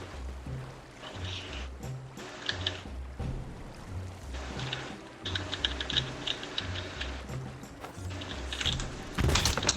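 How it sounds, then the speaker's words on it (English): Rapid tapping on a computer keyboard in Sea of Thieves aboard a pirate ship, bursts of close clicking over a low rhythmic thump and faint water ambience, swelling louder toward the end. "The tapping of the pirate's keyboard getting louder"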